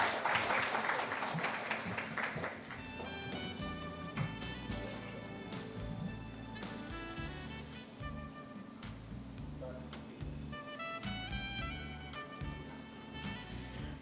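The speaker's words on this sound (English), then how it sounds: "Can I please get a big round of applause, please? A louder one." An audience at a pharma and life sciences summit breaks into applause, a broad burst of clapping at the start that fades under music and a faint voice.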